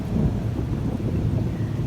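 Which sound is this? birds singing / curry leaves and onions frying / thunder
thunder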